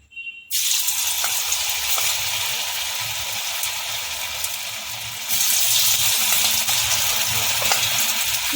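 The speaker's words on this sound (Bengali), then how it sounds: "তেল গরম হয়ে গেছে এবার আমি একটা একটা করে ফুলকপি এর মধ্যে ছেড়ে দেবো" Cauliflower florets in batter drop into hot mustard oil over a low to medium flame, bursting into a loud, steady sizzle and bubbling that carries on throughout with no talk, swelling louder again near the end.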